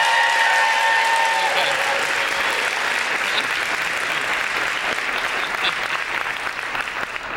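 Banquet crowd at an awards dinner bursts into loud, sustained applause with some cheering voices mixed in, close and full throughout before easing slightly at the end.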